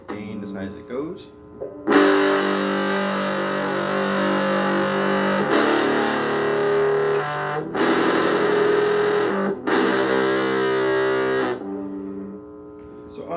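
Electric guitar through a small portable 9-volt practice amp with the gain turned all the way up, loud fuzzy distorted chords ringing in sustained strums with brief breaks between them.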